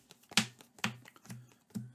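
Playing cards being shuffled by hand for a solo Marvel Champions card game, a series of four quiet, crisp snapping riffles spaced about half a second apart, close and alone.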